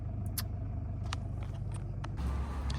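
A car drives along on the way to work, giving a steady low engine and road rumble close by, with a few faint clicks and no talk.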